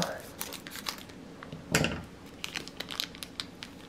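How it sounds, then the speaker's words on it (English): Miniature soap base packets are cut open and emptied into a bowl, making quiet, close plastic crinkling and rustling with one sharper tear-like crackle, heard softly throughout. "we're gonna take both of these and cut them open and dump them in the bowl"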